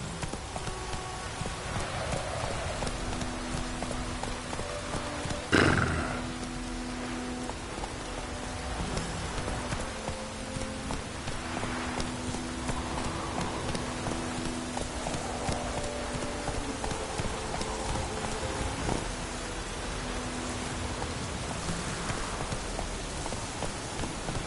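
Roach, a horse in The Witcher 3, clip-clops steadily through steady rain, the hoofbeats mid-distance and continuous under the hiss of rainfall, with a sharp louder knock partway through.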